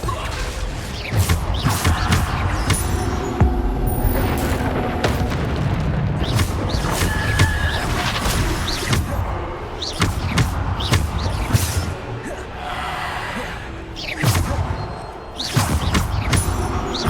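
Heavy magical slams from the Descendo spell in Hogwarts Legacy crash down on enemies, a dense run of booms, thuds and whooshes that keeps hitting hard amid constant battle noise.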